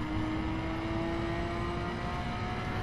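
Nissan R34 GTR Skyline in The Crew video game, its engine giving a steady, moderately loud whirring drone with a sustained tone and no sharp revs.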